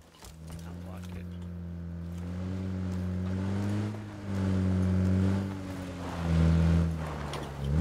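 A vehicle in PUBG drives up, its engine rising and falling through a few gear-like swells, growing louder and nearer, with speech faintly audible beneath.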